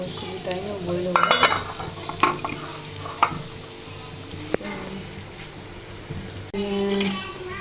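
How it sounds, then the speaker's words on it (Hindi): Onions sizzle and fry in a pan while a spoon clinks and stirs now and then, with sharp taps and scrapes over the steady frying hiss. "प्याज जब तक फ्राई हो रहा है।"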